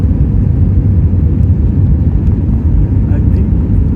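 Cabin noise aboard an airliner on approach to Toronto Pearson International Airport: a steady, loud, low engine-and-airflow roar fills the whole stretch without a break.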